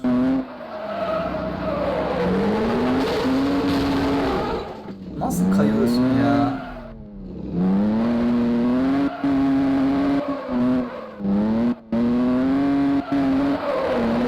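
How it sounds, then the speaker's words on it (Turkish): Volkswagen Golf drifting in a mobile driving game, a steady engine drone rising and falling in pitch with repeated tire squeals, continuous and loud throughout. "Drift atmaya devam ediyoruz"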